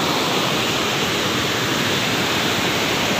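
A swollen hill river in flood rushes loudly and steadily, a dense unbroken roar of water close by with no talk.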